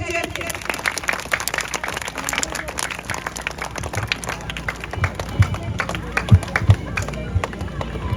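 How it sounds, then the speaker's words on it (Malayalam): Audience clapping for an anganwadi teacher being honored with a currency-note garland at a local gathering, a steady patter of many hands with crowd murmur and nearby voices over it. "എല്ലാവരും ഒന്ന് കൈയടിച്ചേ"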